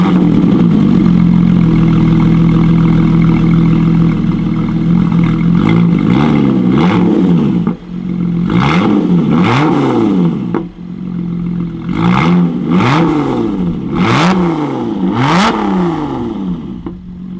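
Lotus Exige 380 Cup, not yet warmed up, fires up and idles loudly, then sharp repeated revs rise and fall in a steady rhythm, close to the engine with no talking.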